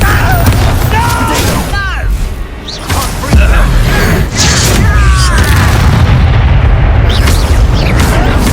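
A Confringo blasting spell from Hogwarts Legacy goes off amid loud booming explosions and bursts of magical combat effects, with dense rumbling impacts over several seconds and swooping tonal whooshes layered on top.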